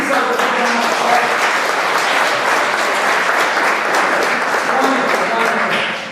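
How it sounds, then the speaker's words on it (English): A live comedy show audience in Wareham, Massachusetts breaks into loud, sustained applause, dense clapping that fills the room evenly for several seconds before starting to fade at the end. "Please give yourself a round of applause."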